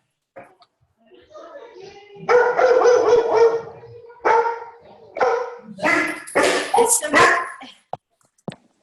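Another household's dog barks in a string of sharp, loud yelps and bow-wows with short pauses between them, and human voices are mixed in among the barks.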